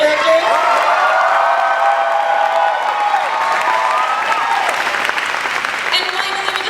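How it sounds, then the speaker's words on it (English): A student show audience applauds for the creative directors, with sustained loud clapping, some cheering and whoops filling a large room. "So can we just get a round of applause for the creative directors?"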